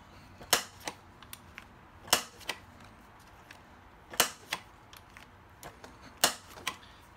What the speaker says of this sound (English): with my Kadomaru Pro corner rounder set to the medium setting